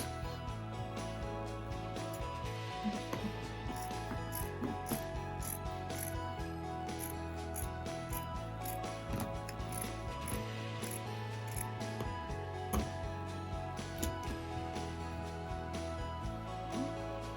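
Scissors snip through trouser fabric in quick, repeated clicking cuts, faint and close, with a steady rhythmic pattern and no talking.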